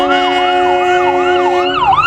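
Wailing emergency vehicle siren in downtown Manhattan, a continuous rising-and-falling electronic wail with steady tones underneath, loud and close over general street racket.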